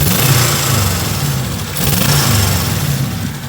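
Turbocharged Proton Wira 4G15 with stock block, 1.3 bar boost and unequal-length headers, rumbling loudly up close in a steady, lumpy low burble with slight rises and falls in revs, no talking.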